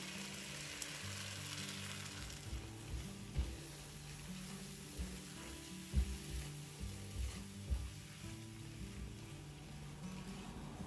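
Masala sizzles and fries in a pan for mirchi salan, a soft continuous crackle with occasional louder pops and stirring scrapes, close and fairly quiet throughout with no talk.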